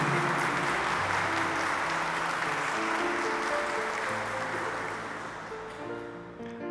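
A church congregation at a wedding ceremony claps in a full, sustained wave over soft held organ-like music tones, gradually thinning toward the end.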